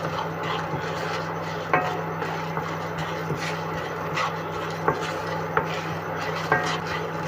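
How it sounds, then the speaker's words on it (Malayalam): Black pepper, dried chillies and fennel seeds dry roasting in a pan, with a steady low hum under soft rasping stirs and a handful of sharp light scrapes or taps, close. "നമുക്കിനി കുരുമുളക്, വറ്റൽമുളക്, പെരിഞ്ചീരകം നമുക്കൊന്ന് വറുത്തെടുക്കാം."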